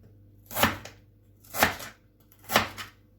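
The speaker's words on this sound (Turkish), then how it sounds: "doğramak istiyorum patateslerimi." Three sharp chopping strokes land about a second apart, each a crisp crinkle-cut knife thud through firm potato against a board, close and clear.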